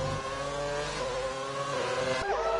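Race cars in a racing video game, a car-racing event on a circuit, droning engines with a cluster of cars running close together, one engine note dropping sharply near the end.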